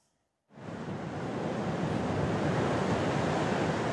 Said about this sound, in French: Entendre gronder l'océan.